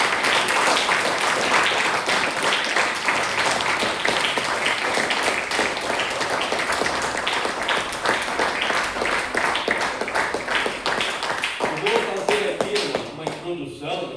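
A church congregation applauds steadily, with dense clapping that carries on for several seconds and tapers off toward the end.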